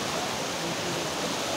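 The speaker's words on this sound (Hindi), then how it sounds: "इस तरफ पूरे झरने हैं" Waterfalls rushing in a forested hillside spot, a dense, steady roar of falling water that fills the scene without breaks.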